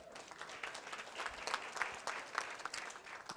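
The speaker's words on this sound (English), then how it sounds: "Another round of applause, please." A round of applause from an audience at a Women At Heart event, fairly quiet and distant, with scattered individual claps rising above a steady patter of many hands.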